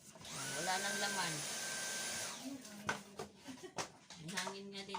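Dyson V8 Slim Fluffy cordless vacuum cleaner running indoors with a steady high whine for about two seconds, then switching off, with handling clicks and a person talking afterward.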